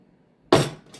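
A lid goes onto a glass jar filled with vodka and vanilla beans, giving a single close, sharp clink and rattle, then a fainter tap as it settles.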